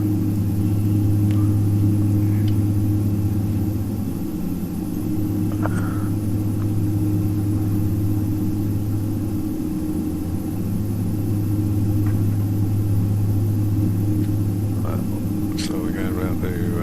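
Twin turboprop engines of a Beechcraft B1900D idling while taxiing in the X-Plane 11 flight simulator, a steady droning hum with low tonal bands, heard from inside the cockpit, with a few faint clicks.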